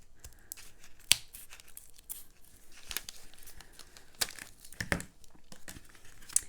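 Big scissors cut through a paper combo tag in a quiet craft setting, giving a few sharp crisp snips and crinkles spaced out over several seconds, with faint handling rustle between them.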